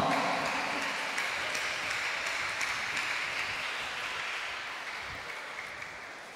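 A congregation claps together at a World Mission Sunday Mass, a dense, steady wash of applause from many hands that holds evenly and then tapers off slightly toward the end.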